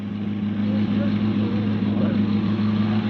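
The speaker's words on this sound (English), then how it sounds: "The sound you hear in the background, ladies and gentlemen, is that of a Ferrari Monza." A 1955 Ferrari Monza sports racing car engine idles steadily in the background, a continuous low droning hum with strong harmonics, held at an even level throughout, with faint talk over it.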